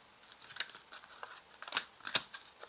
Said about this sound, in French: Et je vais mettre les premières cartes du coup.